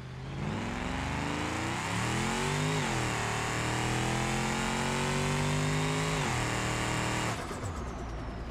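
A wide car with a 5.5 V8 turbo engine in BeamMP revs hard and continuously, the pitch climbing and holding a loud sustained roar, then dropping off abruptly near the end.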